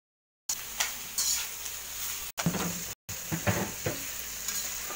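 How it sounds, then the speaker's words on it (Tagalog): Beef sautéing in a hot pan for papaitan, a steady loud sizzle with intermittent scraping stirs and a couple of brief pauses, no voices. "Lalagay na natin yung karne mga katropa, no? Para magisa na."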